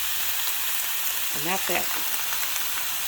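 Garlic and onions with pork in a pan for chile verde, frying with a steady, bright sizzle throughout while a voice briefly speaks over it.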